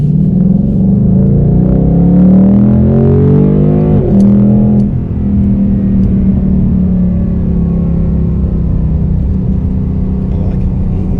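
A 2019 Ford Mustang GT V8 pulls hard under acceleration, its loud, close engine climbing in pitch, then dropping sharply as the 10-speed automatic shifts around the midpoint before building again.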